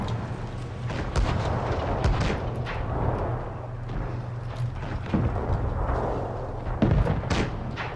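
Tank cannons fire repeatedly in a World of Tanks clan match, sharp booming shots scattered over a dense, continuous battle din of engines and effects, with several louder reports standing out near the end.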